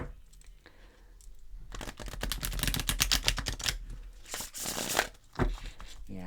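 Tarot cards riffle and flutter in quick crackling bursts, close up, with a pause between shuffles.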